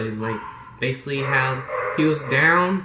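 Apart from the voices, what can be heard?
dogs barking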